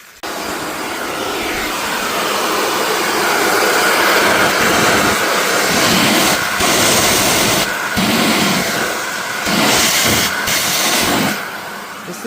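An upgraded Rotovac CFX rotary carpet cleaning machine runs outdoors on concrete, giving a loud, steady, close roar with a few brief dips and no talking.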